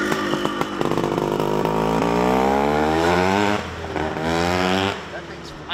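A 1973 CZ250 motorcycle with a brand-new motor revs in a museum, its engine note climbing steadily in pitch and staying loud and close throughout, then easing back near the end.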